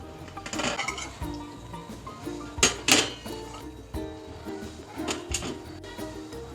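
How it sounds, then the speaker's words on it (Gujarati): A metal gas stove burner set down into a dish, giving several sharp metallic clinks and clatters in a kitchen, with a couple of louder knocks midway and quieter rattles after, no speech. "હવે આ ગેસના બર્નરને આપણે એક ડીશમાં રાખી દઈશું."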